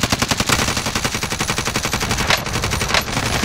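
Rapid automatic gunfire in the video game Warzone rattles out in a dense, loud, continuous burst of evenly spaced shots that carries on for several seconds.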